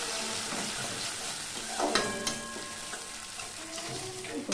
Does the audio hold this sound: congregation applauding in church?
no